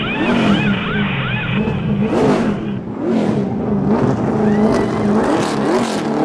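NASCAR race cars roar loudly during a pit-stop tyre change, engines revving and sweeping past in rising and falling whines, with a steady dense motor drone throughout and no clear talking.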